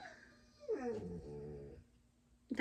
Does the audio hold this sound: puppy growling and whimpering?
yes